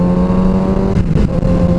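Sport motorcycle engine revving close by, a brief loud steady drone with harmonic whine that wavers slightly midway.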